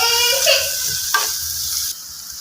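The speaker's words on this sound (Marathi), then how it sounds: "आणि आता यामध्ये टोमॅटो घालून टोमॅटो पण छान परतून घ्यायचंय" Tomatoes sautéing in a pan for Maharashtrian shev bhaji, a steady close sizzle and hiss with stirring scrapes, a brief clink near the middle, continuous throughout.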